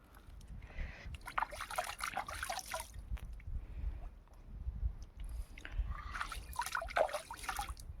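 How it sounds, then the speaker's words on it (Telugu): Water is poured and splashed while a face is washed outdoors, coming as two faint bursts of trickling and splashing separated by a quieter pause. "నీళ్ళని నేను ముఖం కడగా."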